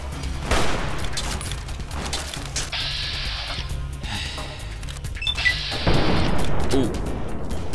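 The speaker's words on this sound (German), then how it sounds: "Da war ein schlechter Schuss." Gunfire in the video game Fallout New Vegas: several sharp shots and bursts ring out in quick clusters, with crashing impacts and mechanical clatter between them, fairly loud against a low game ambience.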